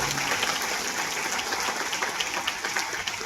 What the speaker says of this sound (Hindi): ताली बजाकर परमेश्वर धन्यवाद।